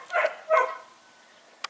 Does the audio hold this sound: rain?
no